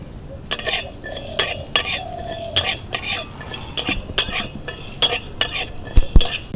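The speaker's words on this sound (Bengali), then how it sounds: "মশলাগুলো শুকনো কড়াইতে একটু ভেজে নেব," Whole spices for a vegetarian Bengali aloo dum dry-roast in a dry wok while a utensil stirs and scrapes them, giving a steady run of clinks and scrapes with faint rattling between strokes, up close and with no talking.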